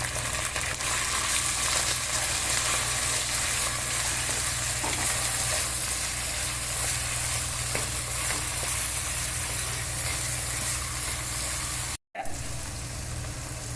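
Onions with salt fry steadily in a pan, a loud continuous sizzle with faint stirring, broken by a brief cut near the end.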